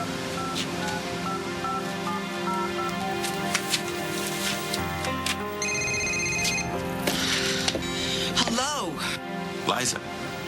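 A phone rings with a repeating electronic tone near the sea on a honeymoon, waves washing in the background, with a short melodic ringtone flourish partway through.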